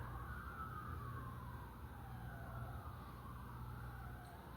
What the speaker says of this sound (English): we just hearing these sirens won't stop